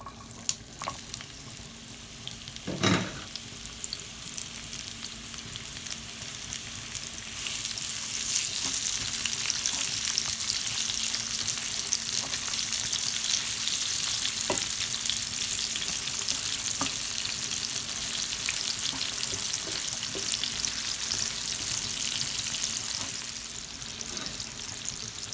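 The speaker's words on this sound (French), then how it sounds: "Je vais dans la même poêle avec l'huile avec laquelle j'ai frit mon poisson salé. Je vais venir mettre mes oignons." Onions frying in a pan of oil left from frying salted fish, a steady close sizzle that swells louder after a few seconds, with a sharp clatter early on and occasional light scrapes.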